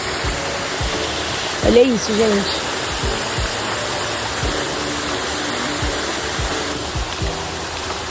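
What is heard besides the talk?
waterfall, Cachoeira do Escorrega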